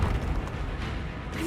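Hogwarts Legacy Confringo blasting spell in the video game: a dense, rumbling explosion with heavy low-end boom that sustains loudly across the whole short moment.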